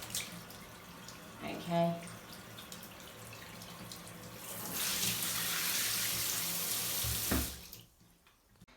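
Bathroom tap turned on for a power shower setup, water rushing steadily for several seconds after a brief spoken word, with a short louder gush near the end before it stops.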